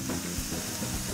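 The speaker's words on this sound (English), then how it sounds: "They said get it hot, make sure it has a good sear." Steak searing in a hot pan, a steady broadband sizzle that holds at an even, moderate level throughout the short stretch, close and continuous with no voices over it.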